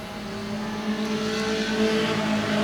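Junior sedan race cars roar steadily around a circuit, a dense continuous engine drone with sustained tonal whine, loud and unbroken throughout with no talk.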